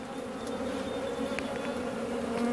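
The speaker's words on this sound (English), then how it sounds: "these bees just love following and blocking all the shots" A steady, close swarm buzz of honey bees during a single-brood hive inspection, with individual bees droning past now and then and no talk.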